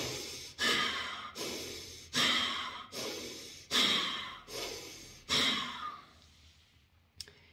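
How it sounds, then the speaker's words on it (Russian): Forceful nasal breathing during an energizing breathwork exercise: six sharp, loud inhale-exhale bursts in a steady rhythm, close and alone, then fading into quieter breath. "Дышим через нос, активный вдох, активный выдох."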